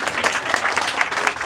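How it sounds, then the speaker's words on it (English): A brief burst of audience clapping at a reunion gathering, a quick, fairly even patter of many hands with no talk over it. "please clap for your neighbor"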